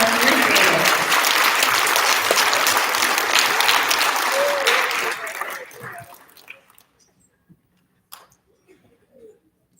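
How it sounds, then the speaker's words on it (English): Dense school-assembly applause for third graders at an elementary student recognition, loud and sustained for about five seconds before tapering off to near silence with a few scattered claps and faint noises. "Big round of applause for our third graders."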